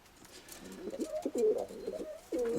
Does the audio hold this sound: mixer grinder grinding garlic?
no